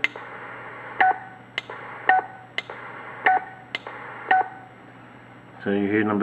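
A roger bleep from a Stabo XM4006E CB radio sounds as a short, clear beep pattern, one of several spaced bursts, followed near the end by a brief, denser tonal sweep that fills the last half second.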